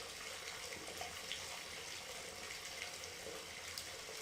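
Hot water pours from a tap into a bath in a steady, even rush, close and moderately loud, with faint splashing and no talking.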